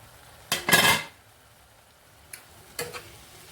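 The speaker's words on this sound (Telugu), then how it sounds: "మళ్ళీ మూత పెట్టుకుందాం" A lid goes down on a pot of cooking amaranth greens with a short metallic clatter, then brief lighter taps follow in a quiet kitchen.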